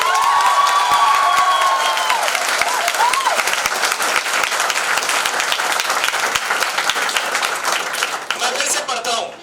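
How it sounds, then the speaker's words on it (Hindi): Loud, dense audience applause at an award ceremony for a Holi festival event, sustained clapping from a large crowd with some shouting mixed in, fading slightly at the end. "इसलिए इनके लिए जोरदार तालियां।"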